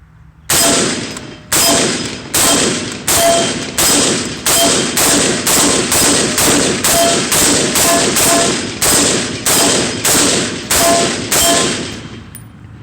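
A Springfield M1A rifle fired outdoors, with loud, close shots in a steady rhythmic string of about eighteen rounds through a Winchester GI magazine. Each shot gives a sharp crack with a trailing echo, and the firing stops cleanly at the end.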